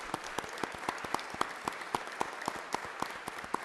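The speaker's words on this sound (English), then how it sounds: "Now you can clap." Georgia Senate chamber filled with steady applause from senators, a dense wash of clapping with a few sharp, distinct claps cutting through at a fairly even pace, heard alone without talk.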